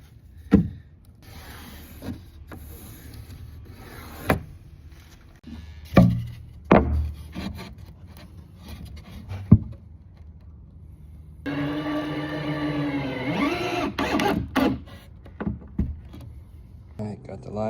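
Cutting wooden backing for a concrete bench form with a power saw, with scattered sharp knocks and handling noises, then a sustained whining cut of several seconds, as a person talks intermittently nearby.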